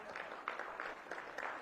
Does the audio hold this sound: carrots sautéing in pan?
no